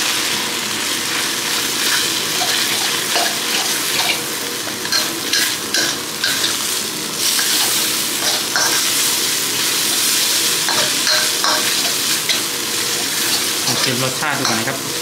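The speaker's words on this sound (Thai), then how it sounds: "ผัดให้เข้ากันครับ" Water spinach and shrimp stir-fried in a wok with oyster sauce, soy sauce and chilli paste for mee krachet, a loud continuous sizzle with rapid clattering scrapes and splashing, no talk.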